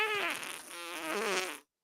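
A long, loud fart with a wavering, buzzy pitch runs for well over a second before cutting off sharply, heard up close with no talk over it.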